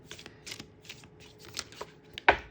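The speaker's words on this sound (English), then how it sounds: "We've got to shuffle a little bit more here." Someone shuffles a deck of cards in a series of short, crisp riffling bursts, ending in a louder snap as the cards come together, close up with no speech.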